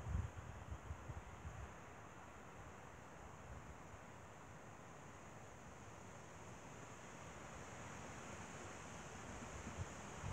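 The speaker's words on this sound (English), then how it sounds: "It's kind of windy out here." Steady wind roars and buffets outdoors in a continuous broadband rush, with gusts hitting the microphone at the start.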